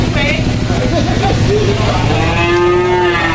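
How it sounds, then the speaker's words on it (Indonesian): A very large bull of nearly 1.4 tonnes moos loudly and close by, a long low bellow, with people chattering and engine rumble in the background. "Sapi apa gede nih kok ini, kayak kudanil."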